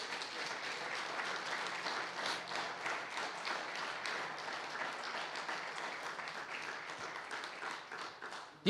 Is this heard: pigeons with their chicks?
no